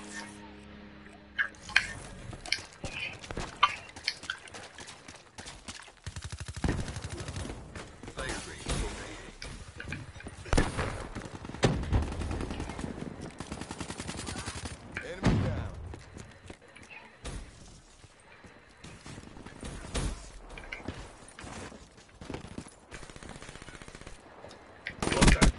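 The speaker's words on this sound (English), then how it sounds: "Oh, now they're using a gun. Now they're using guns." Call of Duty gunfire crackles in irregular bursts of close machine-gun shots, mixed with game effects, while a player talks throughout.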